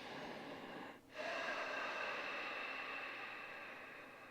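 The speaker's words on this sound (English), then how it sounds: "we're using this throat breathing" Victory breath throat breathing exercise: a soft, steady constricted breath hisses through the throat, broken by a brief pause, then a long whooshing inhale or exhale fades gently.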